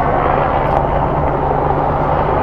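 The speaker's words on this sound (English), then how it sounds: "Guys, look how close that helicopter is to us." A police helicopter hovers close by over London, a loud continuous rotor rumble with low throbbing hum and no voices.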